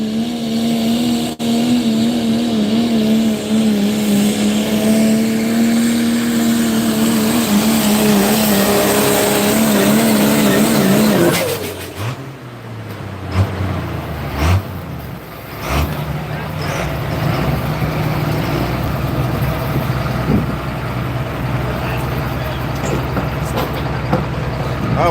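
A diesel Ram pickup, the Smoking Black Ram, roars hard at an open diesel truck pull, its engine note climbing loudly for about eleven seconds before cutting off abruptly, leaving lower engine and crowd noise afterward.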